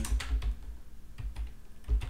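Fingers tap out a Minecraft mod name on a computer keyboard, a quick cluster of close, crisp keystrokes, then a pause and another short burst.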